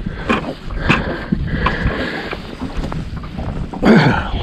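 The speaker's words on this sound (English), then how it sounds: "wind blowing." Strong wind buffets the microphone on a fishing boat on Lake Murray in cold weather, a loud continuous rumbling roar with gusting surges and a few faint knocks from the boat.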